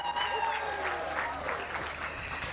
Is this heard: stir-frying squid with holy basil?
no